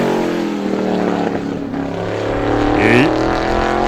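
An ISMA race car on a time-trial lap at Star Speedway roars with a steady engine drone, then swells louder with a rising pitch as it sweeps past.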